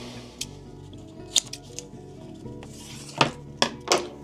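Silver tape being snipped with scissors while building a homemade softbox, a few sharp crisp cuts near the end after quieter handling rustle, close and moderately loud.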